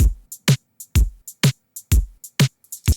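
Drum rack kick and snare loop programmed in Ableton, with a deep kick and a bright snare alternating in a steady rhythm and short hi-hat-like ticks between them, all close and punchy with no talking.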